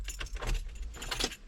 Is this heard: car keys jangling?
yes